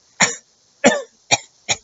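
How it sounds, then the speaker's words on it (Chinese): A person coughs on purpose four times: sharp, close, loud bursts about half a second apart, the first two fuller and longer, the last two shorter, with silence between them. "这就是咳嗽。 我刚刚是故意咳的啦让大家知道什么是咳嗽。"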